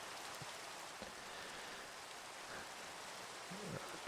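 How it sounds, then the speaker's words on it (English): Rain falls in Minecraft as a steady dense hiss of drops, even and unbroken throughout, with no voices. "Did it quit raining yet?"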